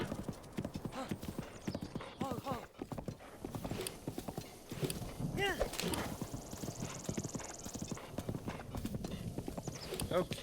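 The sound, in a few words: horse hooves trotting in Breath of the Wild video game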